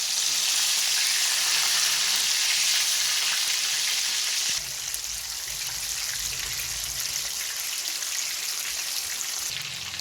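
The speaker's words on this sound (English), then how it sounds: "So our frying process is going on." Marinated fish frying in a pan for curry, a steady dense sizzle that runs loud and unbroken throughout, with a slight shift in tone midway as the oil settles.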